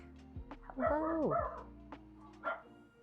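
A dog gives a few yips and barks in a quiet room, with a louder drawn-out whimpering bark in the middle and a shorter one near the end, other barks faint and scattered.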